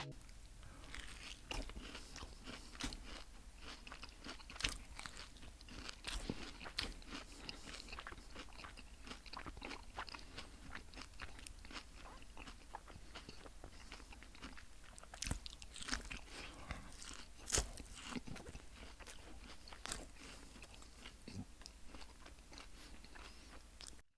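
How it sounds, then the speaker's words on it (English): Someone bites into a Dubai kunafa chocolate bar and chews, with close, crisp crunching and mouth sounds repeating steadily over a long stretch, nearly alone in a quiet room. "let's try viral chocolate from Dubai."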